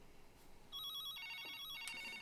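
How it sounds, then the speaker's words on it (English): An old royalty-free cell phone ringtone trills in a bright, steady electronic ring that starts partway in and keeps going, fairly loud and alone with no talk. "There are surprisingly a few amount of royalty-free cell phone rings, so that's why cell phone rings are so old."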